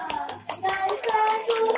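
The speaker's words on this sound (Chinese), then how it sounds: "掌声祝福" Wedding guests clap together at a banquet celebrating a 27th anniversary as a cake is brought to the stage. The applause is steady and moderately loud, with a voice and some talk mixed in over two seconds.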